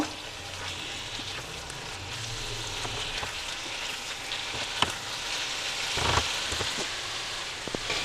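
Dhaniya chicken curry bubbles and sizzles in a pan over high heat, a soft, continuous crackle with a few sharper pops and a brief swell of hissing, no voices.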